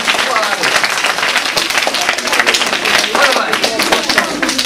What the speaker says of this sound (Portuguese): Uma salva de palmas por isso.